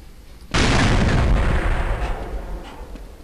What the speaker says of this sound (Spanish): Lo que podríamos hacer acá es tirar una granada.